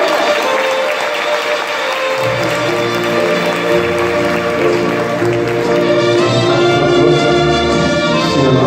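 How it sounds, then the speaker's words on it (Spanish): A crowd at a live music show applauds loudly and continuously to welcome the DJ, and music starts playing underneath after a couple of seconds. "un fuerte aplauso entonces para recibir a nuestro DJ"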